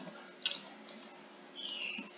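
A computer mouse gives one sharp, close click, followed by a couple of fainter clicks, against a quiet room hiss.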